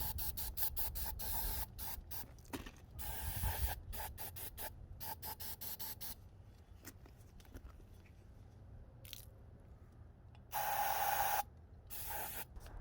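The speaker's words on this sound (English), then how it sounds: "I've got a few things here just to clean it out, some brake cleaner, whatnot." Brake cleaner sprayed from an aerosol can onto an engine bracket of a Cummins-powered Ford F-450 in a shop, a series of short hissing bursts followed later by one longer steady spray.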